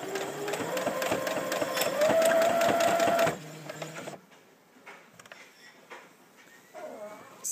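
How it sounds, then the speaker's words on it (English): A sewing machine runs close and fairly loud, stitching along the edge of a fleece crib sheet with a rapid whirring rhythm and rising motor pitch for about three seconds, then stops, leaving quieter handling noise. "So the edge I am sewing is exactly from the distance of the foot"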